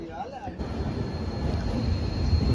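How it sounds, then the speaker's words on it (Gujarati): A train rumbling along with a deep, steady roar that swells gradually louder over a few seconds. "ફાઇનલી આપણી ટ્રેન જો નીકળી ગઈ છે"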